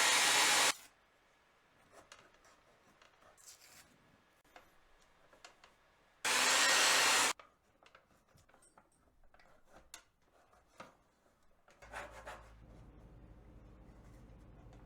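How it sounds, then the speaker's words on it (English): A handheld blow dryer switches on in two short loud bursts of steady broadband whoosh, each under a second, separated by quieter clicks and handling noises, used as a heat source while restoring an original PlayStation. "Usually this blow dryer is for when I want to feel pretty"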